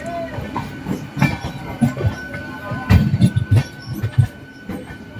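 A Howrah intercity express train running on its way to Kolkata, with wheel and carriage rumble from inside and irregular knocks and clatter that swell and fade, plus a faint steady tone.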